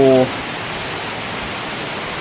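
Rain splashes in outdoors as a steady, even hiss of water at a red worm culture setup, heard alone after a brief voice at the very start.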